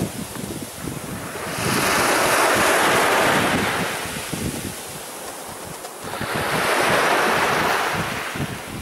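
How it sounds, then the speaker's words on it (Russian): Rough Adriatic Sea surf off Montenegro swells and crashes twice under steady, gusty wind buffeting the microphone, with no voices. "Вот такое море, друзья, немножко волнуется"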